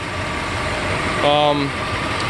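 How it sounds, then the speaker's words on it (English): A 1988 Mercedes 560SEC engine idles steadily, its pitch rising briefly into a higher, harmonic drone before settling back to a low idle. "you can hear the engine changes tone"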